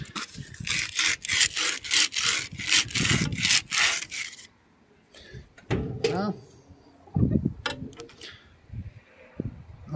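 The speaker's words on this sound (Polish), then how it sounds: "W tej części, gdzie łożysko nie chodzi, ja szlifuję." Gritty rhythmic rasping as thick corrosion is sanded off a steel shaft where a bearing sits, in quick back-and-forth strokes for several seconds, then sporadic scrapes and taps while someone talks.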